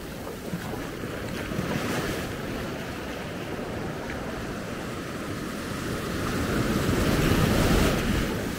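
Atlantic storm surf pounds the beach at Maspalomas, Gran Canaria, in a continuous roar of breaking waves with heavy wind buffeting the microphone, swelling louder toward the end.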